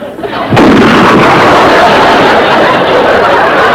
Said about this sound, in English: What exploded?